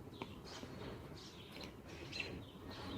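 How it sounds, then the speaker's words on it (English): Birds sing outside a window, faint scattered chirps and short calls repeating over a soft, quiet background hum, with no talking. "I'm sitting here alone staring out my window listening to the birds."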